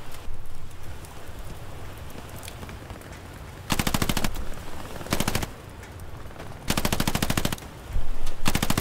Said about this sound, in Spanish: La ametralladora nos está machacando.